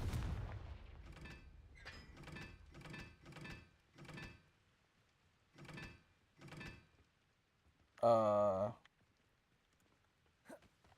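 A Confringo fire spell blast in the Hogwarts Legacy video game, a loud crackling burst with a tonal sweep, standing out after a string of dull muffled thuds and a faint distant knock.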